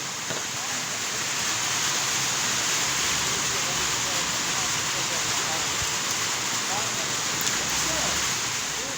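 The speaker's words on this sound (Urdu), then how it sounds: "جب بارش پڑی ہے تو کارونجھر کی پہاڑوں سے جو نکلنے والا یہ پانی ہے، یہ خوبصورت منظر پیش کر رہا ہے۔" Rainwater rushes down the slopes of the Karoonjhar mountains after a downpour, a steady, loud broadband wash of flowing water that holds unbroken for the whole stretch, with no voices over it.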